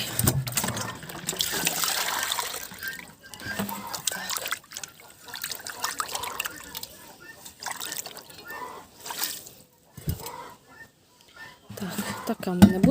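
Water is poured and trickles into a poultry drinker being topped up in a backyard with ducklings and chickens, an uneven splashing fill heard alongside a speaking voice.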